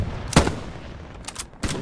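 Gunfire in the World War II shooter game Hell Let Loose, a loud close shot followed by a couple of sharper distant cracks, brief and without talk.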